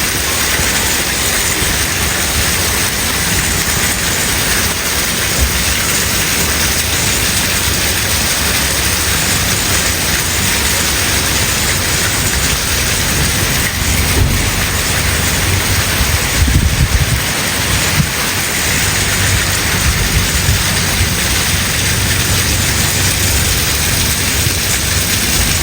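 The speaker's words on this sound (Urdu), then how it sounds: "بہت طوفانی بارش ہے." Heavy stormy downpour in Islamabad under a dark afternoon sky, a dense continuous roar of rain on surfaces, steady and close throughout with no voices.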